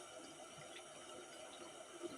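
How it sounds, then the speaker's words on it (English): Water splashes gently as a face is rinsed at a sink, a soft, steady running and trickling sound heard faintly and up close without any speech. "So let me rinse. And I am getting water everywhere."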